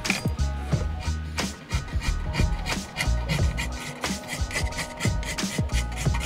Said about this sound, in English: I started out with number 2 cut files to get the wheel into basic shape